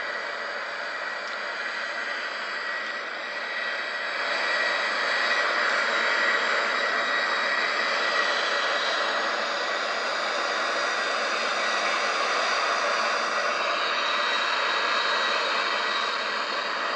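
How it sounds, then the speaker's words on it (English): A steady broadband jet roar from Boeing 737 engines in the X-Plane 11 flight simulator, holding constant and fairly loud, swelling slightly after a few seconds, with no voices. "flying the Boeing 737 into nice flight, this beautiful jet aircraft"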